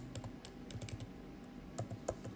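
Fingers type on a computer keyboard in a quick, irregular run of light key clicks, close and fairly quiet, with no one speaking.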